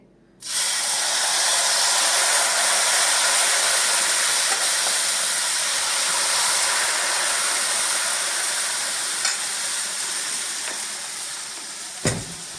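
Rice flour batter for ghavan hisses and sizzles loudly on an oiled pan, a sudden close, steady broadband frying sound that holds for about twelve seconds and fades slightly toward the end.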